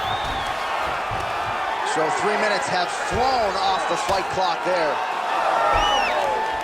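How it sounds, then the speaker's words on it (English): Crowd cheering and roaring inside a UFC video game arena during a CPU-versus-CPU lightweight bout, a steady loud swell with whoops under continuous commentary. "huge pop from the crowd as the fighters get back up to their feet"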